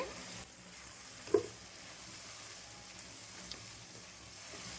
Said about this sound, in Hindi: अब हमने जो गोश्त को बॉईल करके रखा था ये इसके अंदर डाल देंगे।